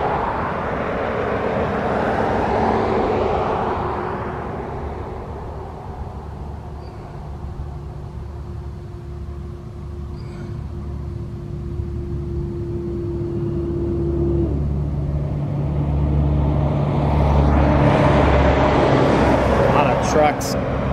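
A Stater Brothers delivery truck drives past on a road near Yucaipa, California, during the El Dorado wildfire, a broad engine rumble with a steady droning tone that builds and fades over about twenty seconds, with voices talking throughout.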